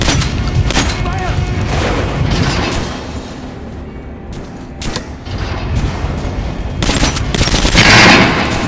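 A firing squad opens fire in the video game Metro Last Light, loud bursts of rapid gunshots in several volleys with a quieter gap between them, voices heard around the shooting.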